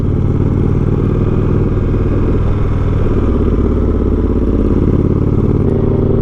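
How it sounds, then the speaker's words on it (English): A big, heavy 900-pound touring motorcycle rumbles steadily and loudly while riding a scenic byway, its engine drone constant and close throughout with wind noise and no speech. "I know it's fun on this big, heavy 900-pound touring bike"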